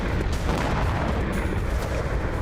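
A HAMMER guided bomb carrying 250 kg of explosive strikes in Ukraine, heard as a dense, sustained roar of blast rumble and debris that stays loud for the whole stretch, with no voices.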